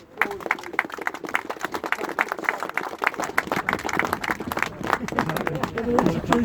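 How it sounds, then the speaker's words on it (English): An outdoor crowd at a community gathering in Rochdale claps in a scattered, sustained round of applause, with voices and cheering mixed in. "So give yourself a round of applause, please."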